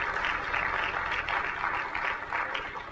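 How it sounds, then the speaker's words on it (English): A conference audience gives a round of applause, a soft, somewhat distant wash of clapping that rises and falls in gentle waves. "Give him a round of applause."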